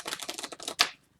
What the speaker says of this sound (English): So I'm going to shuffle both my decks here.